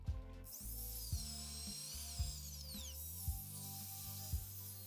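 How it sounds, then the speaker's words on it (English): A drill bores holes into a piece of galvanized sheet metal, a steady whining motor with a repeating mechanical clicking rhythm, close and alone, with a shrill squeal near the start. "Next, I need to drill 6 holes in it."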